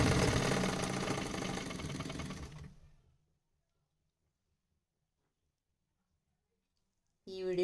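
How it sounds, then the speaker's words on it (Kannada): A freshly oiled stitching machine runs fast over cloth, its motor whirring with a dense mechanical rattle for about three seconds. It then cuts to silence before a brief noise at the very end. "ಈಗ ಬಟ್ಟೆ ಇಟ್ಕೊಂಡು ನಾನು ನಿಮಗೆ ಸ್ಟಿಚಿಂಗ್ ಮಾಡೋದನ್ನು ತೋರಿಸ್ತೀನಿ."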